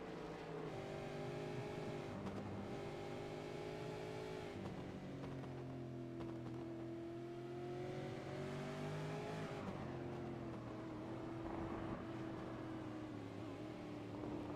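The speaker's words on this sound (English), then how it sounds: "And the Holden, Riley Wright, the Commodore, trying to get around the Mustang of Pressey." Ford Mustang and Holden Commodore race cars lapping Circuit of the Americas in the iRacing sim, with engines whining steadily and loudly throughout, the pitch dipping and climbing through gear changes with no talk.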